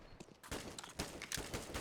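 Wall bang gunfire on the Inferno map of Counter-Strike during a pro match: a handful of sharp, punchy shots in an uneven burst, fairly close and crisp with broadband cracks.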